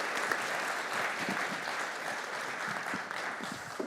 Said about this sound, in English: can we give a big round of applause to our panel members?